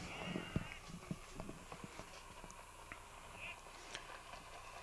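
A field of seven racehorses gallops down the stretch, their rapid hoofbeats drumming at a distance beneath an excited race announcer's commentary.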